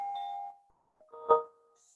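Chimes ringing in fresh morning air in the Himalaya: a soft sustained tone fades out, then a brighter struck chime sounds with layered ringing tones, heard alone in near silence.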